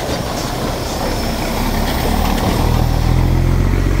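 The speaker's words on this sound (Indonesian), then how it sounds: "Nah ini truk yang pengertian nih, biar ombaknya nggak makin besar" A truck rolls slowly through thigh-deep flood water on a flooded road between Rokan Hilir and Pekanbaru, a loud close engine rumble that deepens and grows heavier toward the end, with a constant wash of noise.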